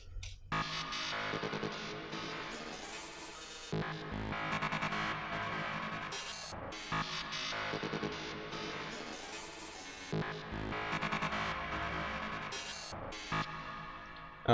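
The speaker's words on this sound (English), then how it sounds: "So we have this lead sound here, which has this kind of delay feeling." A bright electronic lead melody with stuttering, echoing repeats from a resampled, repitched delay in Ableton Live 10, playing steadily and fairly loud over a full backing mix, with brief dropouts between phrases.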